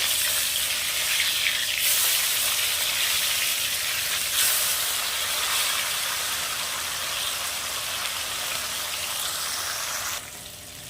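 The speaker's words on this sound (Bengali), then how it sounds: "ভোলা মাছগুলো ভেজে নেব" Bhola fish frying in hot oil gives a loud, dense, steady sizzle that runs close throughout, easing slightly right at the end, with no voices.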